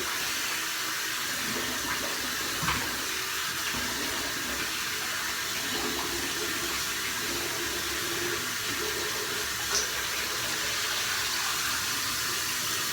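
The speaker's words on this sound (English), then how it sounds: "get some more of that hot water" Steady broadband rush of hot water running from a tap, continuous and fairly close, with a few faint clinks over the flow.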